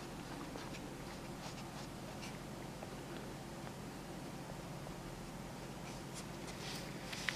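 Fingertips and a fingernail rub and brush old paper label off a vinyl record, giving a faint, steady scratchy rustle with a few tiny ticks, close and quiet with no talking.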